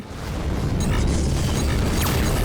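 A missile slams into a spaceship in Rebel Galaxy Outlaw, setting off a loud, close booming explosion that swells in and holds as a thick rumbling roar, with no talk over it.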